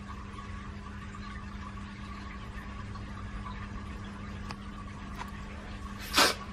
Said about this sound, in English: Sorry for my sneezing, I'm still a bit sick.